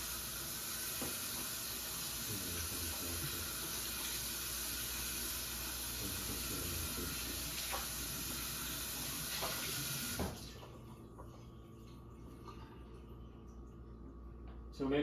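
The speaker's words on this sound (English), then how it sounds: "make sure that both sides is rinsed, like both sides is fully rinsed with water" Water runs steadily over rice paper as it is rinsed on both sides, a continuous broadband splash and trickle that cuts off abruptly near the end, leaving a quieter room.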